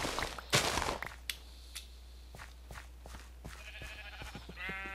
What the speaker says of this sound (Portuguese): Cinco ovelhas.